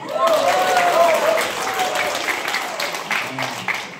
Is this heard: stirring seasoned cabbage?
no